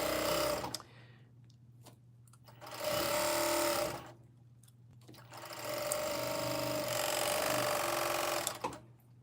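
Domestic sewing machine stitching the center back seam of a dress made from an older New Look pattern, running in three bursts, two short and one long, with a steady low motor hum between them.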